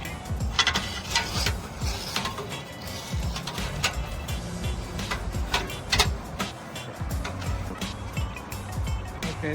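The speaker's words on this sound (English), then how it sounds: "now Jose's going to tighten down all these bolts" A ratchet clicks rapidly and continuously while bolts are tightened on a Wayfair Wade Logan Caggiano patio chair during a sling replacement, with busy mechanical rattling throughout.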